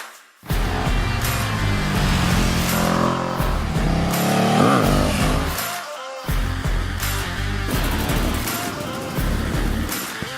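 A motorcycle accelerates hard away in a race, its loud engine revs climbing and shifting through the gears with a brief drop in the middle, close and dominant with no talking.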